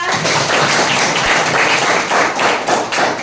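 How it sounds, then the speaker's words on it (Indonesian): Applause from a school audience during an SMKN 1 Tolitoli outreach session with SMPN 2 Tolitoli students: loud, dense, sustained clapping from many people filling the whole moment, close and unbroken. "Tepuk tangan dulu dah."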